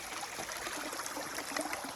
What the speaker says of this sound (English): This is a very beautiful water crossing here.